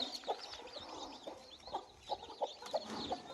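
Country hen clucking close by, a series of short soft clucks in an irregular rhythm, fairly quiet, with faint bird chirps in the background and no talk.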